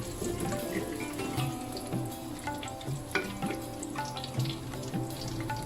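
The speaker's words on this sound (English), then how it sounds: "Drop in few bay leaves. We'll fry these for about 10 seconds." Bay leaves and a quarter spoon of asafoetida fry in hot oil for a black gram lentil dal, giving a steady close sizzle with faint stirring clicks throughout, no talking.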